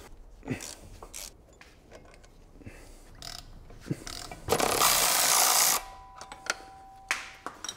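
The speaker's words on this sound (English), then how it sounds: "Now we're gonna undo these 2 final bolts." Final bolts come off the drive shaft of a supercharged V8 BMW Alpina B7, heard as scattered close ratchet clicks and metallic taps, then a loud one-second whirr of a power tool before a few more clicks.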